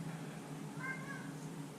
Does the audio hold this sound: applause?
no